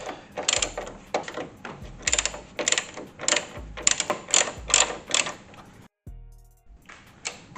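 A ratchet loosens the 13mm strut bolts on a Ford Fiesta ST180, giving close, repeated bursts of rapid metallic clicking with short gaps, then a brief quieter pause near the end.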